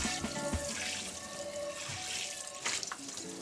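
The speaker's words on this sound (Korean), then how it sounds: "충분히 닦은 뒤에는 따뜻한 물로 팬을 깨끗하게 세척해줍니다" Warm tap water runs steadily over a stainless steel pan being rinsed at a sink, a continuous splashing wash with a few brief clatters and shifts in the flow.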